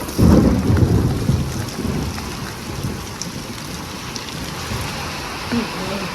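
A heavy roll of thunder rumbles up close at the start and fades out, leaving steady rain pattering on surfaces.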